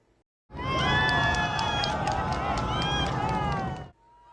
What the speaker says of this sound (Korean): 웅비하는 누리호를 보며 전망대에선 더 큰 박수와 환호가 터져나옵니다